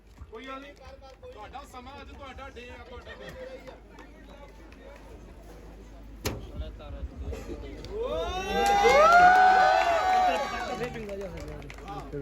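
Wedding guests break into clapping and cheering toward the end, a swelling burst of applause and shouts following a stretch of talk and crowd chatter.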